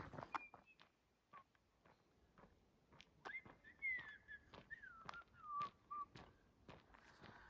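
A person whistles a wandering melody of sliding notes on the Pacific Crest Trail in Washington, with scattered footsteps and clattering around it.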